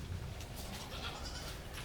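Goats on a goat farm bleat faintly amid a constant wash of broadband background noise, with a few calls rising briefly and no speech over them.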